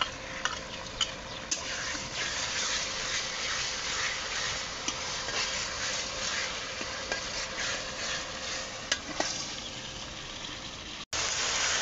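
Ginger-garlic paste frying with onions and a mix of spices for a beef curry, a close, continuous sizzle with scraping stirring strokes and occasional sharp ticks of the spoon against the pan, loud and steady throughout.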